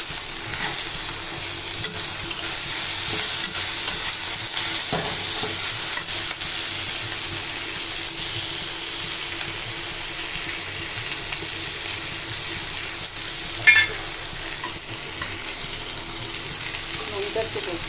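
Potatoes, onions and prawns frying together in a pan, a loud, steady hissing sizzle that runs unbroken throughout, with occasional faint stirring clinks.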